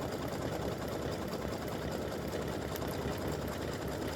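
A sewing machine stitches over the raw edges of applique football feathers on a turkey quilt block, running as a steady, even hum with no break, close and moderately quiet.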